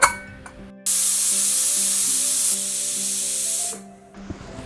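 Steam hisses sharply and steadily from a pressure cooker cooking vegetable biryani for about three seconds, over a low background hum, then fades out.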